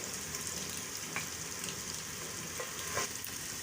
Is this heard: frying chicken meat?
yes